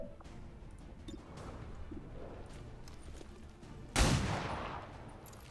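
A single loud pistol shot rings out in XCOM 2 and decays briefly, following a quiet stretch of faint ambient sound with no talking.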